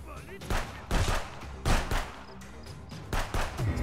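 Gunfire in Contraband Police, several sharp bursts of shots in irregular clusters, loud and close, with occasional faint talk between them.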